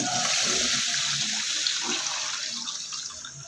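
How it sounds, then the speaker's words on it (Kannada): Water pours steadily into a vessel of washed rice being set to soak, a continuous close rushing splash that eases slightly toward the end with no talking. "ಇವಾಗ ಇದಕ್ಕೆ ಫುಲ್ ನೀರು ಹಾಕಿ ಇಡೋಣ"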